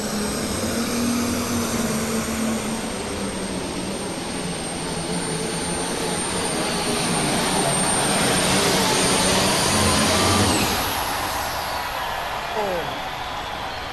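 An International 1066 tractor roars loud and sustained at a tractor pull at the National Farm Machinery Show, its engine building to a heavy peak before easing off, with crowd and announcer noise layered over it.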